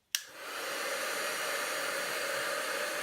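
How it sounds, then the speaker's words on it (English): A heat tool roars loudly and steadily right after switching on, setting gold embossing powder on a Stampin' Up wedding card, its even blowing hiss filling the whole moment. "I've got my heat tool"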